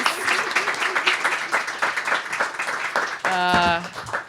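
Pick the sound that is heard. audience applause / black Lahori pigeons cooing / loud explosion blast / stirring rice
audience applause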